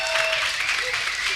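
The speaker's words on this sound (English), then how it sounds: "Can we please give them a round of applause?" Audience at an Africa Day arts event applauds student presenters, a short, steady burst of crowd clapping with some voices faintly mixed in.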